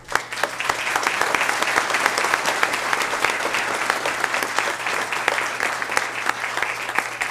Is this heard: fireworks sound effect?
no